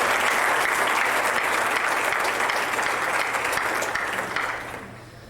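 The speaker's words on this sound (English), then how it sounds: "I wonder if we could give them a round of applause in absentia." Sustained applause fills a hall at an athletics awards night, a dense, steady wash of clapping from a large audience that holds strong before tapering off near the end.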